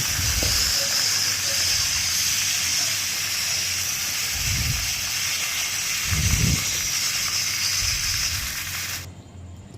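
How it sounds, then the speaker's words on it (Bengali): Fish heads frying in hot oil for a Bengali mustard hilsa dish give a steady, loud hiss that runs almost the whole time, with a few low thuds, before it cuts off abruptly near the end. "মাছের মাথাগুলোকে আমি ভেজে আগে ভেজে নিচ্ছি"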